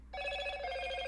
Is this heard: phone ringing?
yes